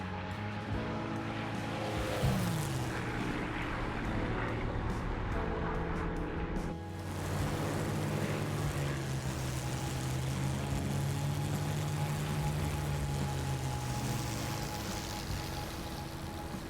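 A Spitfire makes a flyby in the DCS flight simulator over a 1944 Normandy map, its piston engine droning loudly and continuously, with the pitch bending slightly as it passes.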